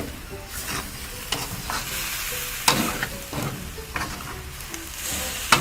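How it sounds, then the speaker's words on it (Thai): Shark meat stir-fried in a wok until dry: a steady sizzle with repeated scraping stir strokes and occasional sharp clinks of the utensil, close and moderately loud, with no voices. "ก็ต้องคั่วจนแห้งป่ะครับ คั่วไปเรื่อยๆจนแห้ง"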